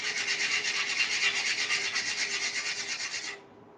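A microplane grating the burnt edge off a cookie, a close, steady rapid rasping scrape for over three seconds before it stops, with no voices.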